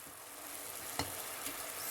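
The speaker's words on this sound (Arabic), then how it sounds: "هنا الدجاج كيتشحر ليا مزيان، غنخليه حتى كينشف من الماء، ماشي من الماء، من لاصوص" Chicken sizzles and fries in reducing sauce in a pan for a Moroccan rice dish, a steady close hiss with a couple of brief stirring clinks and no talking.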